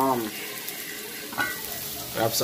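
Seasoning sautés in a hot pan, a steady hiss of frying broken by a few short bursts of stirring or scraping, close and with no voices.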